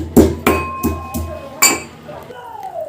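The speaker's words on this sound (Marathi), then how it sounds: "मी चार हिरव्या वेलच्या घेतलेल्या आहेत आणि त्यांच्या थोड्याशा टेचून घेते मी" Four green cardamom pods being lightly crushed, giving a few sharp, close knocks with short pauses between them and a faint ringing clink after the last blow.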